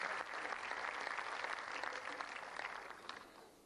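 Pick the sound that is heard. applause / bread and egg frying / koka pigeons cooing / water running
applause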